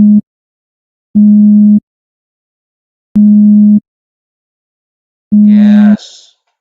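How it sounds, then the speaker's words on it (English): A low-pitched pure tone sounds in three or four separate bursts of about half a second each, evenly spaced with silence between, loud and steady, with a brief voice at the very end. "that is the sound of the low pitch"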